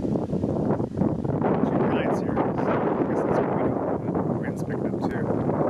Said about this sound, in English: The wind's picking up, and we saw some lightning.